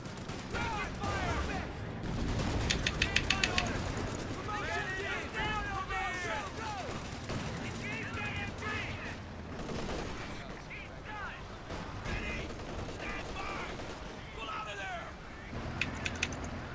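Rifle and machine-gun fire in Company of Heroes 2, a dense battlefield of crackling bursts and single shots alongside shouted soldier voices throughout.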